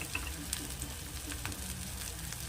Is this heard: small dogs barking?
no